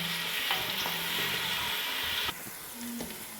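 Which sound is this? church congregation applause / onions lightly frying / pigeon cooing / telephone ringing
onions lightly frying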